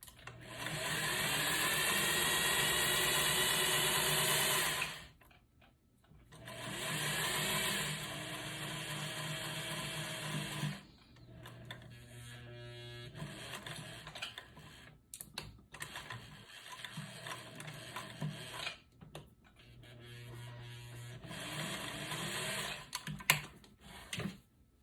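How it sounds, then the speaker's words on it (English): A sewing machine runs a rolled hem along fabric in steady bursts, whirring loud for about five seconds, then in shorter stop-start runs with mechanical clicks and pauses between. "Just gonna turn under a roll hem real quick"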